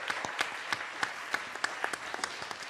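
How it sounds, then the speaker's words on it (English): Audience applause at the closing plenary of a cities conference, honouring mayors and a banker: a steady crowd patter of many hands with sharp individual claps standing out, moderately distant, with no voices over it. "We're going to have a one round big of applause for our mayors and our banker"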